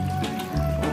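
Water being poured into a pickle jar filled with salted brine, a continuous close liquid rush that shifts in pitch as the jar fills.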